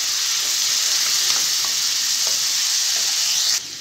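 Finely chopped tomatoes fry in a pan for egg masala Maggi, a loud, even hiss and sizzle with a few faint stirring clicks, dropping suddenly quieter at the very end; nobody speaks.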